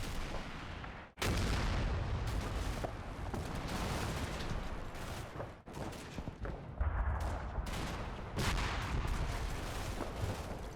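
Heavy booming gunfire from a 57mm anti-tank gun in Combat Mission: Battle for Normandy, several loud blasts with rumbling tails and ongoing battle noise between shots.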